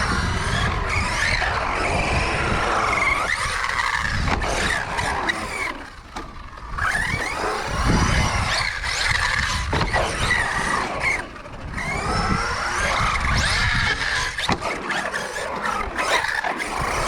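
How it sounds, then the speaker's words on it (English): Arrma Notorious 6S radio-controlled car tearing around a skate park, its electric drivetrain whining shrilly with continuous revving, tyre squeals and skids, loud and close throughout with brief dips as it turns. "Notorious 6S. Sounds quite whiny."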